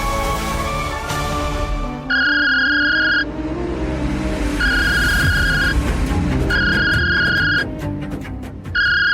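A telephone rings in four repeated bursts of a bright electronic ring, each lasting about a second, played over background music in a domestic TV drama scene.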